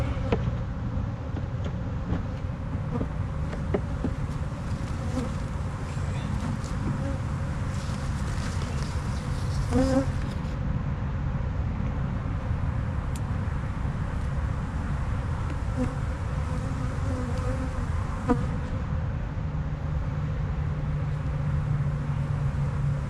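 Honey bees drone steadily around an opened hive being built up for almond pollination, a continuous close buzzing that holds level throughout, with occasional faint handling clicks.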